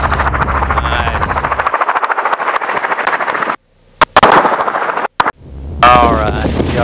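Gunfire aimed at hogs from a helicopter during a hog hunt: a steady loud rotor drone carries through, then cuts out to silence broken by a few sharp isolated bangs before the rotor noise returns.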